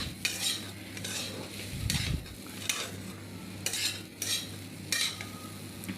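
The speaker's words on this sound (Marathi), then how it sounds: "असं सुटसुटीत होसपर्यंत नॉनस्टॉप आपल्याला असं हे चमच्या ह्याच्यामध्ये हलवावं लागतंच" A spoon scrapes and stirs a thick besan (gram flour) mixture in a pan in rhythmic strokes, about a stroke a second, with a soft sizzle of frying underneath, close and clear.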